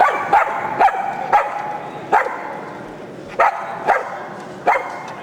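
A dog barks eight times in separated single woofs, loud and close, with short pauses between them and no talking.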